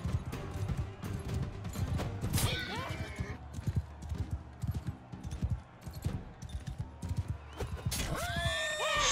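Horses neigh and whinny amid galloping hoofbeats and battle noise in the medieval combat game Mount & Blade II: Bannerlord, with several loud whinnies rising above a dense, continuous clatter.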